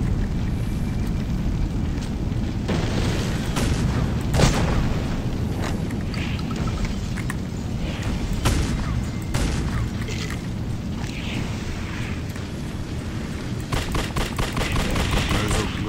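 Heavy .45 ACP pistol shots in The Suffering video game, repeated loud booming reports at irregular intervals over a dense rumbling background of combat noise.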